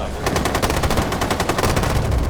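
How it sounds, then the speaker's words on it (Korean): Rapid bursts of automatic gunfire in Rainbow Six Siege, loud and continuous, with dense rattling shots firing throughout. "아우 총소리"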